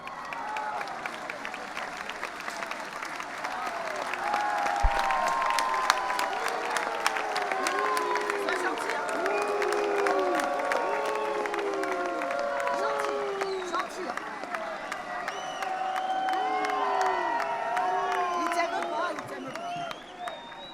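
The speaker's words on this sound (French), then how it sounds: "Je vous remercie de l'accueillir avec des applaudissements d'amitié." A large festival audience applauds and cheers in a long, dense wash of clapping, with voices shouting over it and the clapping holding steady throughout.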